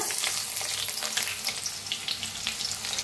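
Finely chopped onion fries in hot oil with crackling mustard seeds and cumin for a bottle gourd dish, a steady close sizzle with soft popping throughout.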